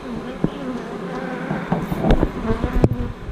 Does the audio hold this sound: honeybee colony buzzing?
yes